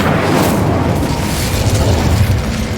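Incendio fire spell cast in Hogwarts Legacy, a loud, sustained roaring whoosh of flame and rumble that fills the whole moment with no pause.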